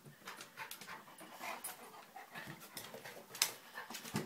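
A Jack Russell and a wolf pant rapidly and continuously up close after playing, with a few faint whimpers mixed in.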